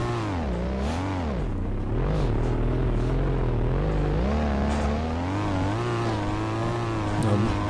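A car engine in BeamNG.drive revs hard through a tight section near a park, rising and falling with throttle changes, loud and continuous with no talk.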